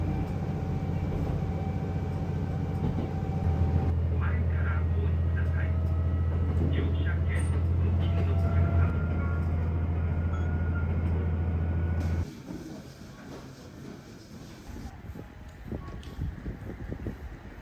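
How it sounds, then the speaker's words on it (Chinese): A single-car local train on the Tango Railway in Japan runs at a slow pace, giving a steady low rumble and hum that holds for several seconds, then drops away into quieter rattling and wind-like noise. "只有一节车厢的小火车真的太可爱了"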